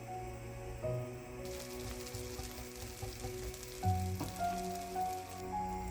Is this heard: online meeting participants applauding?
no